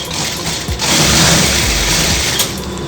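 Sewing machine stitching a folded fabric strip for a hairband, a steady close mechanical whir that starts after a short pause and runs continuously, with no talking.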